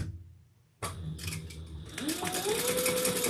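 Sewing machine back stitching across the bottom of a fabric sling pack, entering abruptly after a quiet moment as a steady close mechanical whir, with a rising tonal hum building toward the end.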